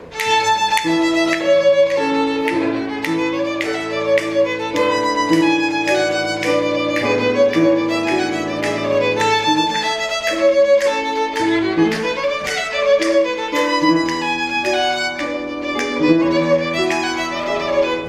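A bowed string instrument plays a repeated exercise of sustained notes with crisp bow changes, fairly loud and steady, no voices.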